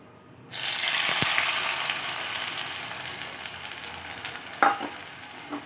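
Whole garam masala and a bay leaf hit leftover oil in a pan for a chicken dish: a sudden loud burst of sizzling that settles into a steady crackle, with a clink of utensil near the end.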